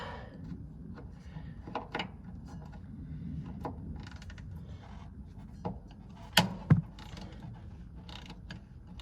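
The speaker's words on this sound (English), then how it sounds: "And got a bigger breaker bar for these guys" Breaker bar loosening bolts on a Peterbilt truck airbag, giving faint mechanical creaks and scrapes, then a pair of sharp metallic clunks near the end of the effort.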